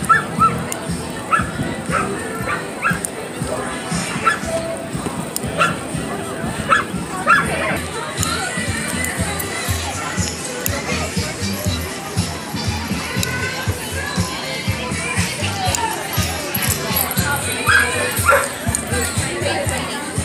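Dogs bark and yip repeatedly in short bursts at an outdoor Bark in the Park dog show, with a crowd murmuring around them and people talking close by throughout.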